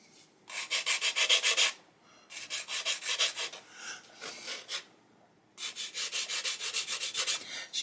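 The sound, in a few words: sanding off a sprue attachment point on a plastic model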